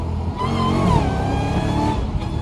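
A Dodge Hellcat running with its hood removed revs loud and close, a steady, throaty engine roar that rises and swells across the clip with no talking.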